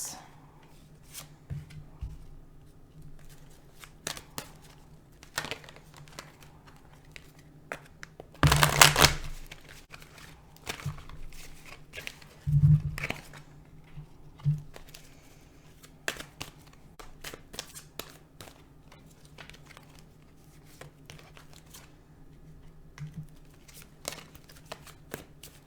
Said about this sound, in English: So let's pull your cards.